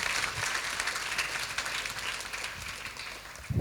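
An audience at a panel session on the quarter-life crisis breaks into sustained, dense applause that fills the room evenly before fading at the end.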